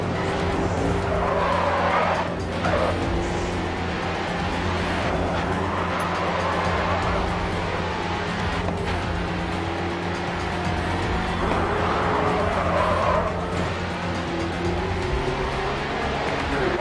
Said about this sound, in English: Watch out ahead. Someone spun out.